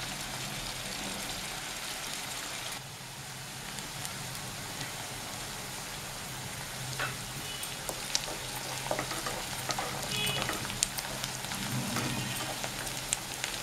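A bay leaf fries in hot oil for a Kallu chicken curry, a steady soft sizzle and crackle running throughout at low level, with occasional faint clinks and stirring.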